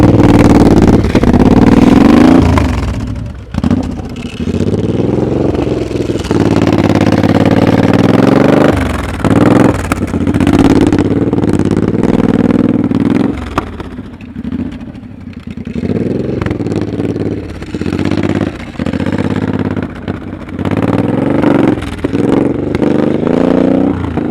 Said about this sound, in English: That motorcycle is cracking and jacking